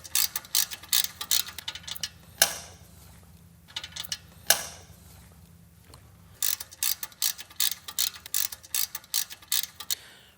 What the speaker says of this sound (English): we're gonna take a 1/2-inch wrench or socket, pull the bolts out of our muffler under here on the front and the rear